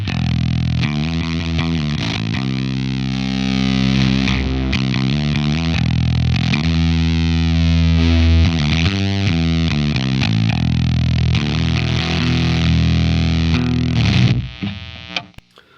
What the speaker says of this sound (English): This is a super high gain fuzz, so when I kick it on, the gain's going to be all the way down at minimum.